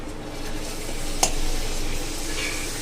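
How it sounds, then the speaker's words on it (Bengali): Papad frying in hot oil in a home kitchen, a steady soft sizzle and bubbling that runs throughout, with one brief sharp clink partway through. "আগে পাঁপড়গুলো ভেজে নিই।"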